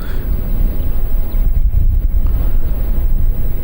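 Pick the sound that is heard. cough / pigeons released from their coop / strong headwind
strong headwind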